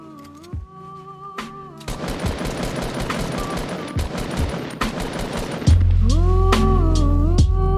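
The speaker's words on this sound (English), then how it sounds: "Oh, yo, someone's shooting." Rapid automatic gunfire in the Fortnite battle royale video game, a dense run of sharp repeated shots lasting several seconds amid game sound, with other game noises before and after.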